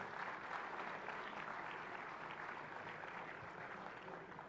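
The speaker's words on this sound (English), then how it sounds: "how about another round of applause for all of our state sports writers of the year" Sustained applause from the crowd at the 65th NSMA sports media awards ceremony, an even wash of many hands clapping at moderate distance, steady and unbroken with no speech on top.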